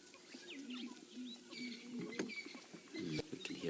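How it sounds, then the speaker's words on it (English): Southern ground hornbill calling at dawn on an African safari drive, low booming hoots carried from a distance beneath birdsong and soft rustling, faint and layered over the morning ambience. "We can hear a special bird called a ground hornbill calling."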